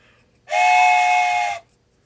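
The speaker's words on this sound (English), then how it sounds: "I don't know if you can play a song on your whistle." A single sustained whistle note blown once, loud and steady for about a second, with a clear bright tone and no other sounds around it.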